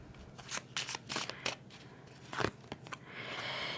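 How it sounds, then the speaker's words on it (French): Oracle cards are handled and shuffled close by in a quiet room, making a series of crisp riffling bursts and flicks, then a softer rustle at the end. "Je vais prendre les cartes."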